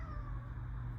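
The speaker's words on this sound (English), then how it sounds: "that's my cat" A house cat gives a single short meow close by, indoors over a low background hum.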